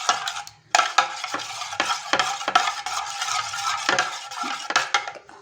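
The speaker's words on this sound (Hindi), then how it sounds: "अच्छी तरह से दही को फेंट लूँगी मैं।" Yogurt being whisked in a bowl for Pakistani kadhi pakora, a steady run of quick scraping, clinking strokes close by with short pauses between bursts, no talking.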